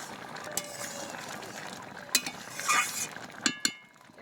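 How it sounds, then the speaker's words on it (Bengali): Chicken curry being stirred in a pot, with soft scraping and a few light clinks of a spoon against the metal, quiet and close, with short sharper knocks near the end. "একটু নেড়ে চেড়ে নিলাম।"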